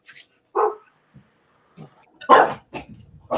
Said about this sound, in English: My dog's out there barking.